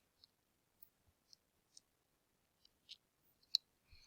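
Sparse, quiet clicks of a computer keyboard being typed on, a handful of short isolated taps spread irregularly over a few seconds with near silence between them and no talk.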